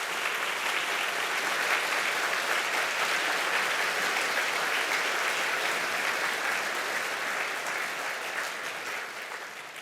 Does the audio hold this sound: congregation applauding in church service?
yes